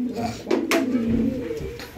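A pigeon in a home loft coos near at hand in a low, throaty, repeated rolling call, with a few short rustles and knocks around it.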